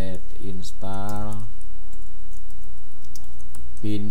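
Computer keyboard keys click in quick bursts as a command is typed on a Debian server, with a voice talking over the keystrokes.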